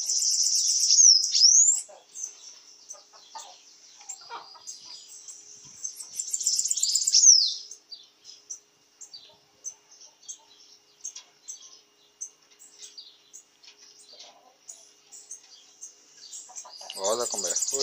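A caged bananaquit (sibite) that is molting sings in high, thin trills and chirps. Fuller bursts at the start and midway give way to scattered soft calls, and a voice joins near the end.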